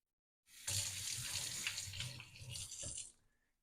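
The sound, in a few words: water tap running while rinsing hand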